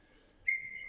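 Referee's whistle at an 18U ice hockey game, a single sharp shrill blast starting midway and holding steady, fairly clear over faint arena background.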